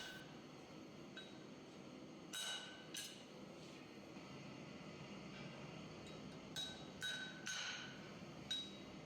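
Hammer blows on an anvil punching through hot iron while forging a heart hook, a handful of sharp ringing strikes spaced irregularly, fairly quiet and alone.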